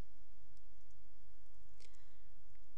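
A computer mouse clicks during an SMTP server setup wizard, a single short faint click over a quiet, hissy background.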